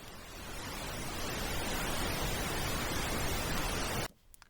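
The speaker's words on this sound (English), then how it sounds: "And voila, something that approximates white noise." Synthesized white noise made for drum and bass production, a steady, loud hiss that swells slightly, holds for about four seconds, then cuts off abruptly.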